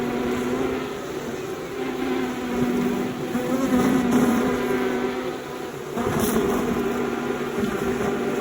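Honey bees from a first swarm being boxed hum steadily, a dense, continuous buzz that stays close and loud for the whole stretch with slight swells, no voices over it.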